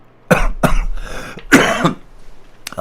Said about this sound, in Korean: 기침이 좀 중간중간 나오더라도 여러분들이 양해해 주시길 부탁드리겠습니다